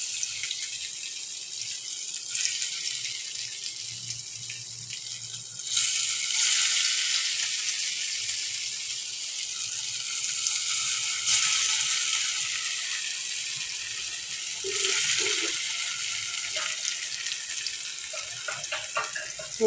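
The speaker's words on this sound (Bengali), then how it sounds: "আমি এই কাটাগুলোকে এবারে আমি তেলে ছেড়ে দেব" Cut pieces of a lentil-and-egg dish hiss and sizzle steadily as they fry in a generous amount of hot oil, with the crackle swelling in a few louder bursts over about twenty seconds.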